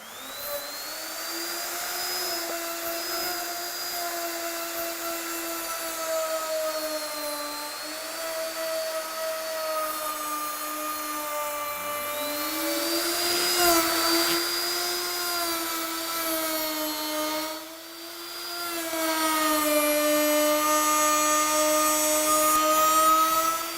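A Ronix 7112 1850W electric router with a trimmer guide trims the edge of a workpiece, its motor whining at a steady high pitch close up with a few shifts in load over a long continuous run.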